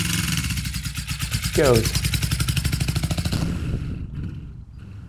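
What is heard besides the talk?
Suzuki GS450 cafe racer motorcycle engine riding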